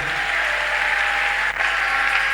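A church congregation applauds during a Sunday service, a dense, continuous wash of clapping that stays loud throughout, with a brief dip partway through.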